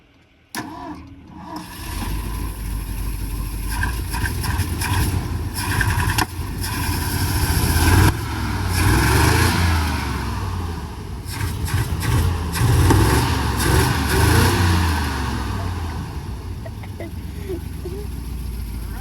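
A car engine cranks and catches, then runs steadily at a loud idle with uneven roughness and occasional revs, close by and continuous for the whole stretch, with some speech mixed in.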